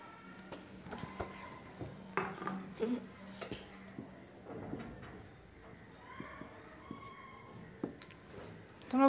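Chalk or marker scratching across a board in a Bengali lesson, with short bursts of strokes and taps spread through the clip, under faint background noise and occasional low voices.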